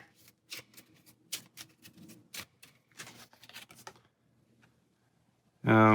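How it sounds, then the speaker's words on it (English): Rapid riffling bursts of cards being shuffled, repeated several times in quick succession, close up, followed by a pause and then a loud sudden tone. "Then shuffle the deck again."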